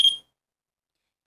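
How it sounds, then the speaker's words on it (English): A trigger object sensor alarm gives one short, sharp high-pitched beep, then falls completely silent. "when you go to touch the doll or anything what it is hooked around, it's going to alarm"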